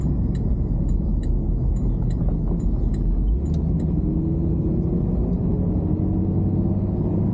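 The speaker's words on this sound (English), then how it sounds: "Fix the brakes and it's a pleasure to drive it." A 1963 Cadillac Fleetwood with a freshly installed brake master cylinder and booster cruising on the road, heard from inside as a constant low rumble with light ticks and a slowly rising engine tone, no talking.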